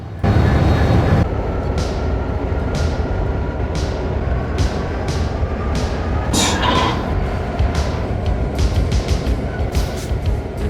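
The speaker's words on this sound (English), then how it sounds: "Ben, do you not see the hazmat sign on those tankers? Or do you have a suicide wish? Oh yeah. Lots of dangerous chemicals on CSX 8888's train" A CSX freight train hauling hazmat tank cars rolls past close by with a loud, continuous rumble, marked by a regular clack of wheels over rail joints.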